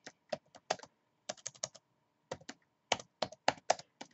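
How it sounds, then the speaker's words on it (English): Someone types on a computer keyboard while entering a memo in QuickBooks Desktop, in short bursts of quick, crisp keystrokes with brief pauses between them, close and clear in an otherwise quiet room. "down here in the memo, we can just type monthly"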